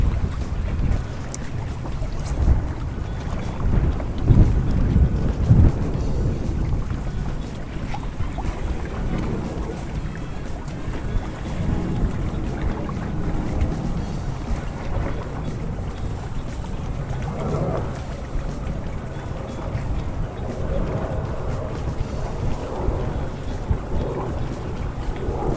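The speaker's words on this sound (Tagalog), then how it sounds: "Kasi medyo malakas yung hangin. Sobrang lakas talaga." Strong, gusty wind buffets the microphone at a beach on Samal Island during lure fishing, a constant roaring rumble with no voices.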